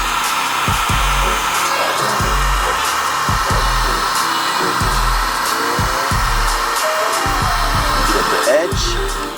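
A heat gun blows steady hot air while heating an aftermarket car chargepipe, a continuous loud hiss filling the clip with scattered handling knocks beneath it.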